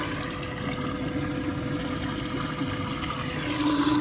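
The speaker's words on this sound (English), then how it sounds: "Splashing water everywhere." A pump pushing and splashing water inside an A2W icebox, a steady continuous wash of churning water with a constant motor drone underneath, close and even throughout.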